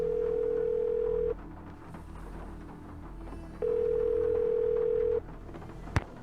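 Phone call from inside the Nancy Drew game Legend of the Crystal Skull: a steady electronic dial-style tone holds for over a second, drops away, then returns for a second long tone, with a sharp click near the end.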